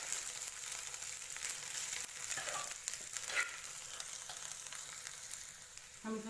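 Potatoes with a ginger, garlic and green chili paste frying for batata vada, a steady broad sizzle running throughout with a few brief scraping touches, close and fairly loud, no talking.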